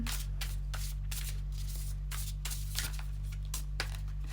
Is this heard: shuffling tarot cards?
yes